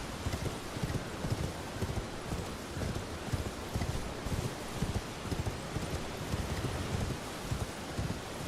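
A horse's hooves gallop in Elden Ring, a rapid, steady clip-clop drumming on the ground, loud and close, blended with a rushing, rain-like wash of ambient noise and no talk.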